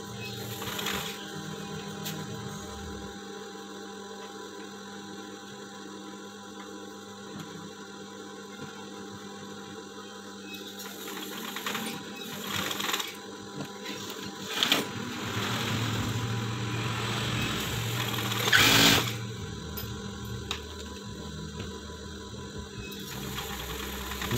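A sewing machine stitching trim on a stretchy knit garment hums steadily with a mechanical whir, joined by faint clicks and louder rattling bursts toward the end.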